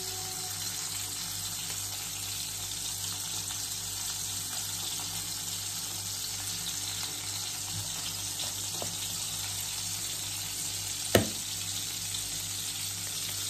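Steady, hissing sizzle of meat patties (kotlety) frying in a pan, continuous throughout with a faint clink partway through.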